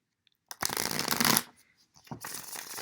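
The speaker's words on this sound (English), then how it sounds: "3 shuffles for you." Tarot cards are shuffled briskly in two bursts, a dense riffling rush of about a second, a short pause, then a second run of shuffling, close and alone with no voice.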